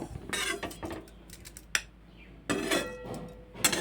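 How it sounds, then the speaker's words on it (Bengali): Fried cumin seeds being drained from hot oil into a bowl, heard as a few close, sharp metallic scrapes and clinks of a utensil against the pan and bowl, with quieter gaps between. "এবার আমি তেল ঝরিয়ে জিরাগুলোকে একটা পাত্রের মধ্যে তুলে নেব"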